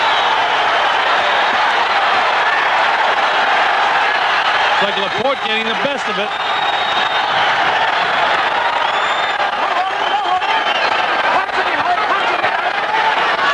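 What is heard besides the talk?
boxing crowd cheering during a fight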